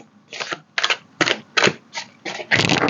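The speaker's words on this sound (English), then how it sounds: "Oops, I'm sorry, knocking the camera like that." A camera is knocked and bumped, giving a series of sharp, close, hollow thumps and clatters in an uneven rhythm.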